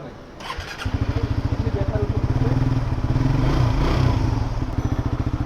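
A Yamaha FZ motorcycle starts on a rainy day and settles into a loud, rapid, steady idle close by, with a brief clatter at the start and a voice talking over it.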